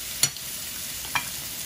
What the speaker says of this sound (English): I'm gonna add some butter on top of each of them so we can cook them there, get that flavor